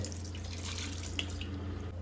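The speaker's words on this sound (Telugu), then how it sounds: "ఒక గ్లాసు నీళ్లు కూడా పోసేద్దామండి." Water pours steadily from close by in a continuous splashing stream for a couple of seconds, a glass of water added to goat head curry with salt and oil.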